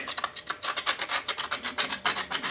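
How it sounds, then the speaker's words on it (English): Rapid rhythmic rubbing and scraping along the edge of a vent window channel on an old Ford F100 truck, clearing out crud in quick close strokes with no talking. "And then if I just rub the edge,"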